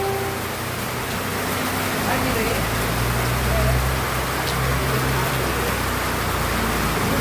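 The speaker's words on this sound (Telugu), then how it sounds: "ఈ వర్షం చూడండి అంత పెద్ద వర్షం పడతా ఉందో." Heavy rain pours at night on a road, a dense, loud, unbroken hiss of falling water with a low rumble underneath throughout.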